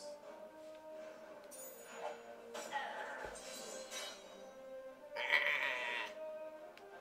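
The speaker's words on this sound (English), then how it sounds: "Oh no, the Nazi zombie cow is angry." An angry Nazi zombie cow in South Park: The Stick of Truth lets out a few faint, bleating moos in short bursts over a quiet game background.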